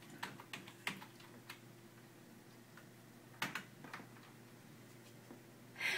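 Someone types a name on a computer keyboard: quiet, scattered key clicks in irregular bursts over a steady low hum, faint and close, with no talking.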